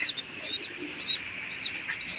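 A bird makes short, high chirping calls, repeated several times at irregular intervals, faint against a quiet background hiss.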